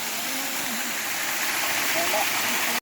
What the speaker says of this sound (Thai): น้ำแรงมากครับผมตอนนี้